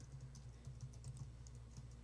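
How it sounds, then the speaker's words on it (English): Rapid, steady clicking of computer keyboard keys in a radio studio, faint and continuous over a low electrical hum. "Wait, stop typing a second, Regan."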